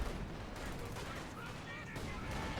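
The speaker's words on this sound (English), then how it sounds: "incendiary artillery finally used by Jesulin" Incendiary artillery pounds away in a competitive ESL Go4 match of a strategy video game, a dense barrage of rumbling blasts and crackles, with a commentator's voice partly under the din.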